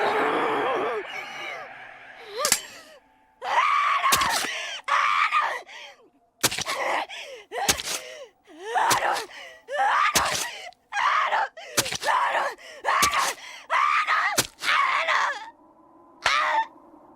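A female anime pirate character screams and wails while stabbing her arm, giving long anguished cries in repeated loud bursts with brief gaps between them.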